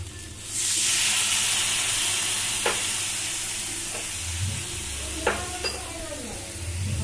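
Water poured into a hot pan of frying spices, bursting into a loud hissing sizzle with rising steam, with spoon scrapes and light clinks of cookware throughout and a faint voice in the background.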